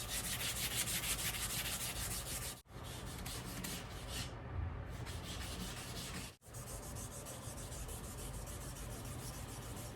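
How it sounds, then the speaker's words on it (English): Rhythmic scraping as a motorcycle gas tank is wet sanded with fine-grit paper to remove orange peel, a steady close rubbing with two brief pauses and no talk. "so we're going to move on to wet sanding"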